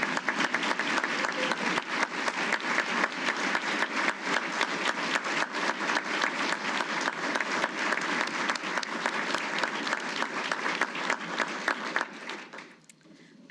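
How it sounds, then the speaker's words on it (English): A crowd applauds steadily and loudly for about twelve seconds at an employee recognition awards ceremony, the clapping then fading out. "let's give them another round of applause"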